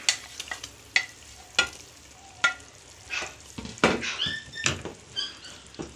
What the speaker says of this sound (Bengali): এবার আমি মাছটা দিয়ে দিচ্ছি